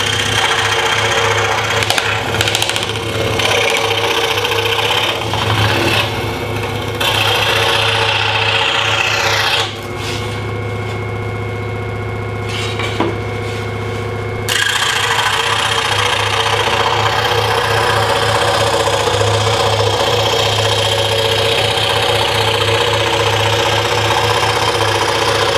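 A Porter Cable scroll saw runs at about half speed, cutting wood with a dust blower nearby: a steady, close buzzing rasp that lasts throughout and eases to a softer, thinner tone for a few seconds partway through.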